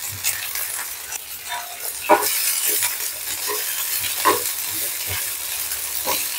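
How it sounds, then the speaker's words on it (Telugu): Broccoli, sweet corn and peas fry in olive oil with a steady close sizzle and hiss, broken by scraping stirs and soft clatters of vegetables shifting in the pan. "ఈ బ్రోకలీని లైట్గా వేయించుకుందాం"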